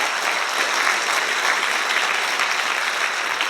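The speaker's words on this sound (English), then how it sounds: "you should give us all a round of applause" Steady, dense applause from an audience at a university thesis competition, loud and even throughout the short stretch with no voices on top.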